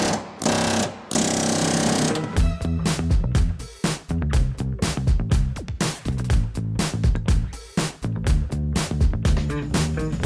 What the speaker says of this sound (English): I got a chisel gun and I'm just gonna go around and cut it out